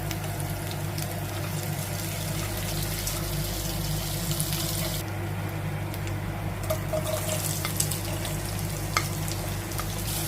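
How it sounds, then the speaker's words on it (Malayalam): Onion frying with crushed ginger, garlic and curry leaves for a green peas curry, a continuous sizzle broken by scraping stirs from a spoon against the pan. "നമുക്ക് നന്നായിട്ട് ഇളക്കി കൊടുക്കാം. ഉള്ളി ഒരു ഗോൾഡൻ കളർ വരുന്നിടം വരെ ഇളക്കി കൊടുക്കാം."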